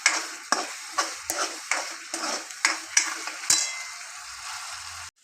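Mushroom curry in a pan just after chili powder goes in, stirred in about nine quick rhythmic scraping strokes over a light sizzle, then a brief quiet stretch at the end.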